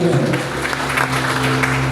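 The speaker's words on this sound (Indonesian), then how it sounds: "Berikan tepuk tangan yang meriah." Steady, dense clapping from a church congregation fills the whole stretch, loud and sustained with no pauses.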